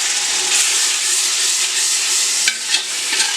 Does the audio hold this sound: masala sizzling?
yes